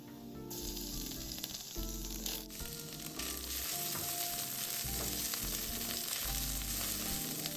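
Shredded shiitake mushrooms stir-fried in hot oil with golden scallion slices over medium heat, a steady close sizzle with scraping stir strokes and no talking.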